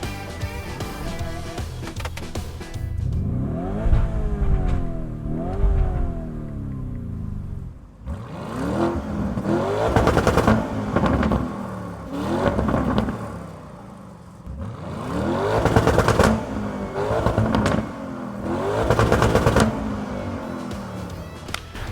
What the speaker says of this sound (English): test out the exhaust system in the different driving modes